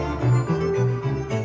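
Sustained synthetic string chords shift smoothly beneath a held higher note, forming a lush, continuous orchestral pad with gentle swells.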